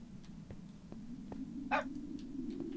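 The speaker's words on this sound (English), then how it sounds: "Why is this dog following me?" A single short dog bark from a Minecraft dog rises briefly over a steady low hum and quiet game ambience.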